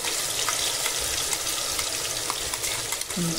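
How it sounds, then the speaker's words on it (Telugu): Masala paste of onion, ginger and garlic fries in hot oil with a dense, constant sizzle and bubbling, close and fairly loud, with no talking. "ఇప్పుడైతే మీరు చక్కగా వేయించుకోండి."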